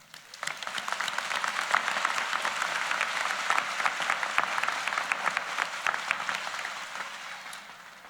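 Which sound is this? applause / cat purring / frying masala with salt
applause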